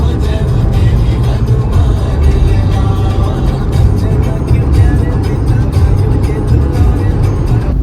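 Maruti Suzuki Ignis stuck in heavy road traffic congestion on the Delhi to Jaipur route, with a steady, loud broadband engine and road rumble from nearby vehicles throughout and no clear talk.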